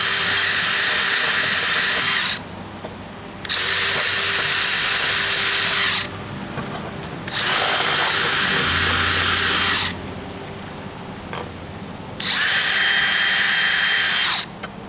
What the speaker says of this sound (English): we're going to go ahead and pre-drill our holes for the nails